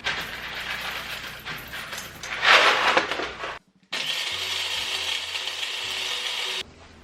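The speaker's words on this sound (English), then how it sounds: "So I grind my beans first." A coffee grinder grinds coffee beans in a loud, harsh whirring burst that swells, cuts out briefly, then resumes steadily before stopping, with no talking.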